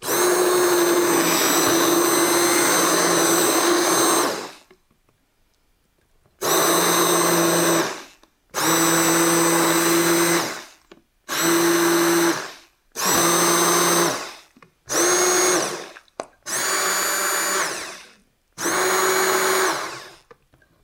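A blender purees leek and Stilton soup in loud, steady bursts: one long run, a pause, then six or seven short pulses with brief gaps between them, close up and without talk.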